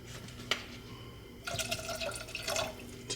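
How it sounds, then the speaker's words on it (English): Water splashes and trickles into a cooking pot of chili, a short pour starting halfway with a couple of close drips, with no talk. "A little bit more water."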